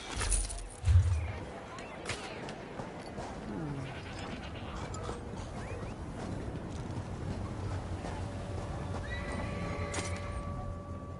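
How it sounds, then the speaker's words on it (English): A horse whinnies near the start over hoof clip-clops in the video game The Elder Scrolls Online, then a steady ambient bed of shuffling and distant movement continues. "The horses are restless."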